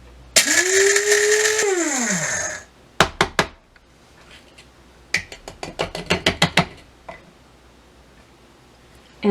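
Electric grinder whirring loudly as it grinds dried garlic into powder, its motor pitch rising then cutting off, followed by a series of short sharp pulses and clicks.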